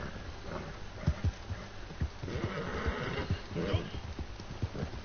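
A horse gallops in Red Dead Redemption 2, its hooves pounding in a loose, uneven rhythm against a busy background, with a neigh rising midway.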